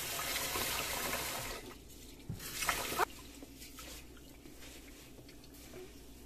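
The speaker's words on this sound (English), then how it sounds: "Wash the rice." Rice being washed by hand in water, a wet swishing and sloshing that runs steadily for a couple of seconds, then gives a few louder splashy squishes before settling into quieter trickling.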